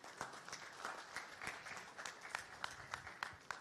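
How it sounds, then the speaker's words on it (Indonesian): Crowd applause, fairly faint and distant, a steady patter of many hands clapping with sharper individual claps standing out. "Tepuk tangan buat mereka."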